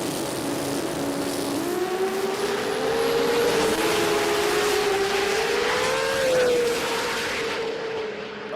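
Drag racing cars scream down the strip at a Brisbane street-car jamboree, one loud, sustained engine roar holding a high rising and shifting pitch throughout, close and steady without talk.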